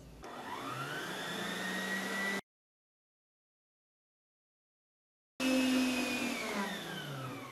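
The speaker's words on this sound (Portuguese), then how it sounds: "Agora vou bater isto aqui em velocidade alta até ficar um creme esbranquiçado." An electric mixer whirs steadily at high speed while beating cake batter for a pineapple and coconut cake, cutting out for a few seconds of silence before starting up again, loud and close.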